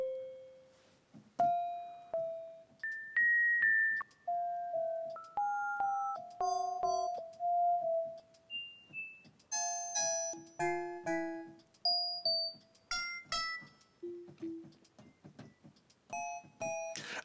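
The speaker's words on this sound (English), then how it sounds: "it's gonna sound kind of like this glassy metallic sound." Glassy, metallic FM synth tones from the Algoritm synth in Reason, with a randomized patch, ring out as a busy sequence of bright bell-like notes jumping between pitches, each striking and decaying in steady succession, loud and alone.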